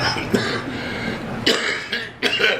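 Three coughs, the first a short hack at the start, then two harsher bursts later, close and fairly loud over a quiet room.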